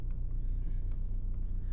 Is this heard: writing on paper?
yes